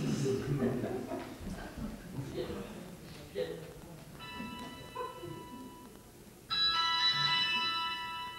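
A mobile phone rings with a steady electronic tone and is left unanswered, starting partway through and growing louder near the end, while people talk and a dog yips in the background.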